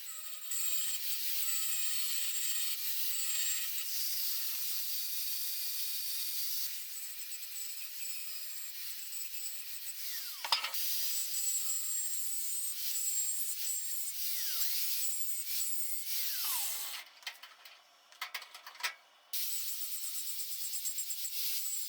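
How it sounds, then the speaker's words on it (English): A grinding wheel bevels a cast iron joint ahead of a brazing repair: a harsh, continuous high abrasive whine held close for most of the stretch, with brief dips and breaks near the end as the wheel lifts off the metal. "I've never had an issue using a grinding wheel, and that's what most people use"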